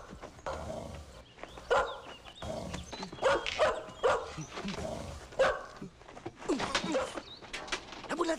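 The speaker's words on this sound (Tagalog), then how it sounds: "Pangit ng aso." A dog barks repeatedly in short, loud bursts outdoors, with some whimpering between barks, while people talk nearby and birds call in the background.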